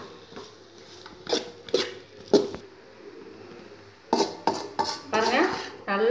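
A metal spoon scrapes and clanks against a pan while chilli chapati is stirred, sharp bursts in two clusters separated by a quieter pause, close by with no talk.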